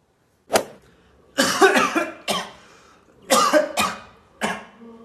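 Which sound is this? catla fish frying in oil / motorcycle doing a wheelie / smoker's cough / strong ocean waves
smoker's cough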